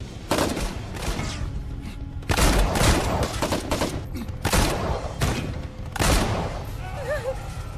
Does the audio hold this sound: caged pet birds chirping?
no